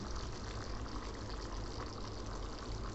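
Water pours steadily and continuously into a pan of chicken curry made with ground masala paste, a constant close gushing sound with no talk.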